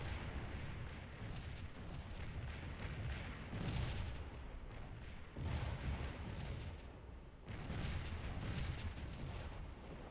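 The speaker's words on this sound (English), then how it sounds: "Really just trying to keep the cannons firing hot." Booming cannon artillery fire from the Scourge of War game's Battle of Stones River rolls in repeated heavy blasts, each one swelling and decaying in a continuous rumbling barrage with no talk.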